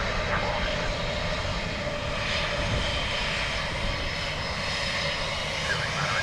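Airplane landing at Dublin Airport, a loud steady aircraft engine roar holding throughout at close range with no pauses.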